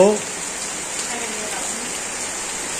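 Steady rain hisses evenly throughout on a village rainy day, after a brief voice at the very start.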